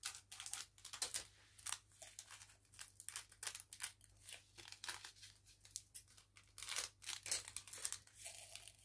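Scissors cutting while making a diamond painting, close and crisp, a string of irregular snips and crinkly rustles of material, no talking.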